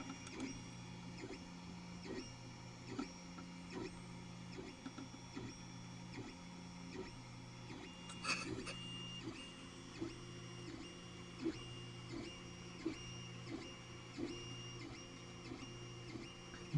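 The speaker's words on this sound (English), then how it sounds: "This is the printer that's doing it." A 3D printer lays down its first layer, producing a steady, quiet whir of stepper motors with regular rhythmic ticks and short repeating movement tones, heard alone and without talking.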